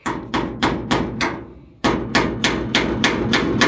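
A small hammer taps a flathead screwdriver into a metal latch in a Sprinter van in a steady rhythm, about a dozen sharp, ringing strikes with a brief pause midway.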